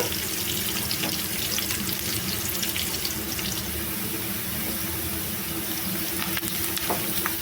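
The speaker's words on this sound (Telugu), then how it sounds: "ఈ అట్టికాయ ముక్కలన్నిటిని జల్లిగిన్నెలో వేసేసి వడగట్టుకోవాలండి" Raw banana pieces draining in a colander, with water pouring and splashing steadily into a sink throughout, close and continuous.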